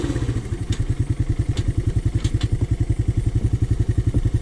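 Honda TRX 125 ATV engine runs with a steady rapid thumping putter, loud and close, as the quad tries a wheelie, with a few light clanks over it.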